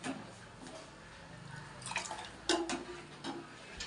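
Quiet, close bubbling and popping of a tomato dish boiling in a pot, with soft irregular blips and gurgles over a low simmering hiss.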